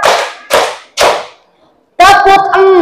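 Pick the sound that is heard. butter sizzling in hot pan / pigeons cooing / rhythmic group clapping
rhythmic group clapping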